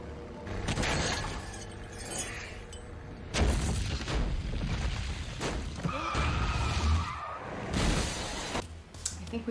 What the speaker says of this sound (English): It's just about a girl riding in a car with friends and there's other people around and on the highway and there's a crash.